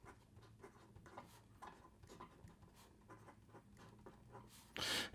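A Pilot Vanishing Point fountain pen with a 14 karat gold nib scratches softly across paper in quiet, repeated strokes, followed by a short louder rustle at the end.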